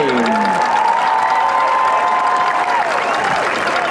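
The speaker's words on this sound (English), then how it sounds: "One more round of applause for that king and queen." Stadium crowd at a high school football game between Aquinas and Blue Valley Southwest applauding the homecoming king and queen, loud continuous clapping and cheering with a few whoops, sustained throughout.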